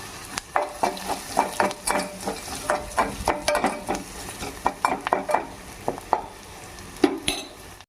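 Curry leaves dropped into a pan of Andhra gongura chutney with onion and turmeric, a low sizzle under frequent clinks and scrapes of a spoon stirring against the pan, close and fairly quiet.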